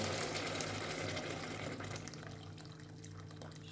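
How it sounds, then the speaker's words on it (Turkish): Hot water pours into a pot of lentil soup with red pepper flakes, a steady close splashing and gurgling that gradually softens. "ve sıcak suyunu üzerine döküyorum."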